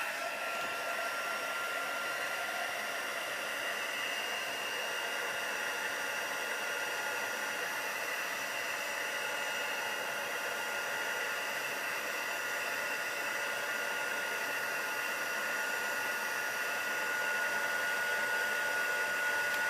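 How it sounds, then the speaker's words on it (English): A hair dryer blows steadily at close range over a painting, a constant airy whoosh with a faint high whine that runs unbroken for about twenty seconds, with no speech. "I'm just then going to dry it off again."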